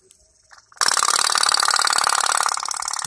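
After near silence, a small flame-powered pop-pop toy boat starts up and runs with a fast, steady putt-putt rattle, loud and close.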